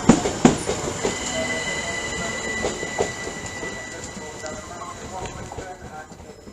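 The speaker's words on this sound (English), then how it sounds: "Departing now is the 12:55 Great Northern service to King's Lynn." A Great Northern Class 387 electric train pulls out of Ely station on a King's Lynn service, with steady rolling rumble, clanks, and sustained high wheel squeal and whine fading gradually.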